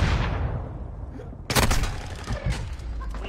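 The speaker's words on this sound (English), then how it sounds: "Cruise missile launched. They have a cruise missile." A cruise missile strike lands in a video game with a loud, rumbling blast that fades and then gives way to a sharp second explosion, followed by lingering booming debris and a decaying roar.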